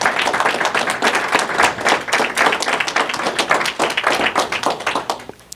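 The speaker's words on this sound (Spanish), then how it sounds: "damos un fuerte aplauso a las ofrendas" A congregation standing and clapping at a church service, loud, close rhythmic hand claps in a fairly steady beat that continue throughout and taper off at the end.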